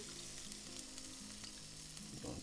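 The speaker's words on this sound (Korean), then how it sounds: "자, 끓는 기름을 붓고요." Boiling oil pours over chili flakes set in a sieve to make chili oil, producing a steady, close, hissing sizzle that lasts throughout, with a brief louder crackle near the end and no talking.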